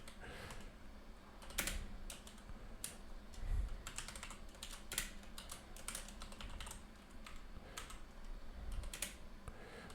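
JavaScript code being typed on a computer keyboard, with rapid, uneven clusters of close key clicks and occasional heavier thumps, continuing steadily with no talking.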